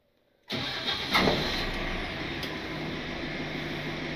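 A 4x4 wrecker truck engine cranks and catches after a moment of silence, then settles into a steady, fairly quiet idle close by, with no voices.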